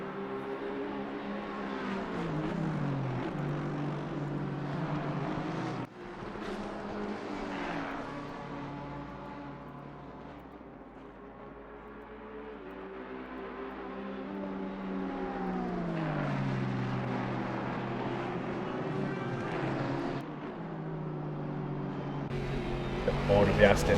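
An Aston Martin race car engine in a racing video game at Zandvoort revs up and down through its gears in a continuous harmonic whine, with voices talking over it.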